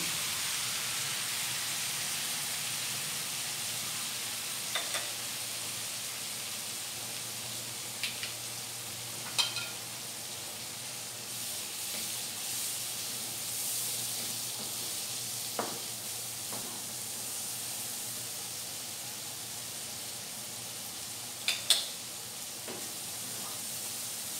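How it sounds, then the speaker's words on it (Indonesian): Spice paste for sambal teri sautés in a pan with a soft, steady sizzle. Light stirring scrapes and clicks come through now and then, and no one speaks. "Sekarang aku mulai tumis bumbunya ini, kita tumis sampai harum, sampai matang."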